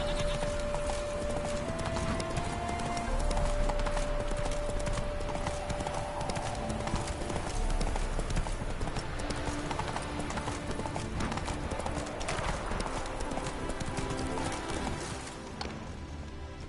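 Continuous clip-clop of horse hooves trotting at a steady pace in a PS4 video game, loud and close, with a faint sustained tone behind.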